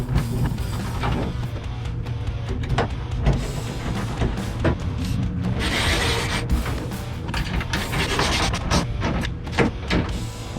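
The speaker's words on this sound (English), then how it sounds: "So I turn the steering wheel, and tires turn." Steering wheel and column of a VW Beetle-based Volksrod being turned, giving a steady run of close mechanical rubbing, clicking and grinding with a few sharper ticks throughout.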